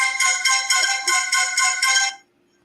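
A telephone ringtone trills in rapid electronic bursts, about six pulses over two seconds, loud and close, as a call comes in to a live call-in show, then cuts off into silence.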